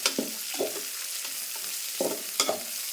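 Onion, green chilies and field beans frying in a pan, giving a continuous close sizzle with a few quick stirring scrapes, alone without talk.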